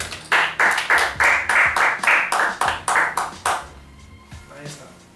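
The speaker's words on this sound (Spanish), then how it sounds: "Un aplauso para él." Clapping at a talk after a quiz winner takes a prize comes as about a dozen sharp, evenly spaced beats, then fades to quiet room noise.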